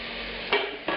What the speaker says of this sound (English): I'm going to add the juices from this back into the pan with the vegetables